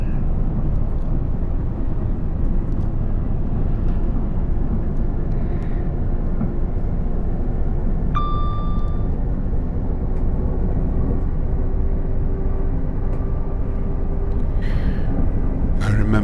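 A GWR train in Train Sim World 6 picks up speed on the Thames Valley line, giving a steady, dense rumble throughout, with a thin tone rising partway through.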